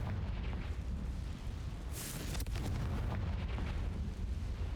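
A fiery explosion from the Confringo spell in Hogwarts Legacy, a dense booming blast with rumbling debris that fills the whole stretch, loud and close, with no talking.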